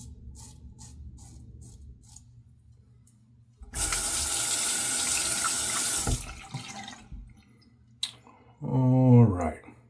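A tap runs into a sink for several seconds as water is splashed on the face before shaving, a loud steady gush between quieter clicks and handling, with someone talking near the end.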